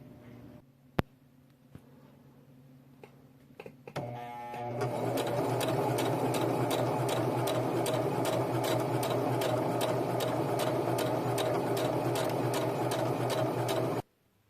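A sewing machine stitches a shirt seam for a World War II Assassin's Creed cosplay shirt. After a few soft handling clicks, it starts and runs a fast, even, rattling stitch for about nine seconds, then stops abruptly.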